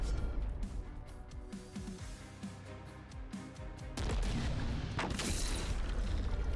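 Mortar strike in The Last Spell, a turn-based game: muffled booms and impacts over a low rumble, swelling into a louder, sustained burst of explosions near the end.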